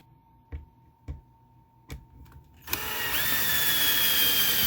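A few sharp taps, then a power drill starts up and whines steadily, loud and close, drilling a hole in a guitar neck.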